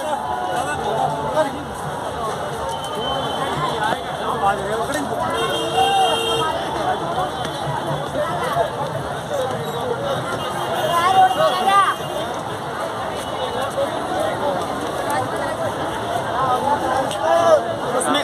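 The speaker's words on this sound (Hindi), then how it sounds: "ये लोगों की भीड़" A dense crowd of people gathered along the Bharat Jodo Yatra march route in India, with steady murmuring chatter and hubbub around the listener, close and continuous throughout.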